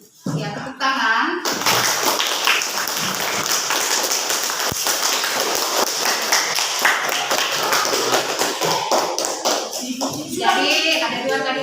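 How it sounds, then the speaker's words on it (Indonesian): Classroom students clapping together in a lively, sustained burst of many close hands, dense and loud, with children's voices mixed in at the start and end. "Ya, tepuk tangan."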